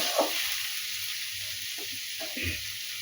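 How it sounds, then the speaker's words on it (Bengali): Radish and radish greens with chilli, turmeric, salt and black cumin frying gently in oil give off a faint, even hiss with a few soft pops. "হাতের জালে আস্তে আস্তে করে ভাজতে হবে"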